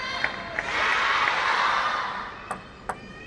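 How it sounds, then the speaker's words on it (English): A large crowd roars and cheers through the middle of a women's table tennis rally at the 2026 ITTF World Cup in Macao, swelling loudly and then fading, with sharp ball pings before and after. "has the whole of the crowd roaring her on as well"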